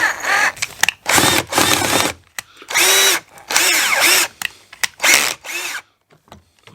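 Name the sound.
power drill drilling out a screw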